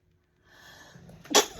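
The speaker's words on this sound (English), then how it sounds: "I gotta sneeze." A single sharp human sneeze bursts out near the end, loud and close, following a moment of quiet breathing.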